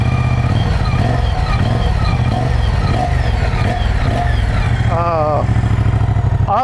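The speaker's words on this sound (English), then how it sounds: "just listen to this thing idle" A 2024 Moto Guzzi Stelvio adventure motorcycle engine idles steadily nearby with a low, throbbing pulse, loud and continuous throughout, with brief whistling tones near the end.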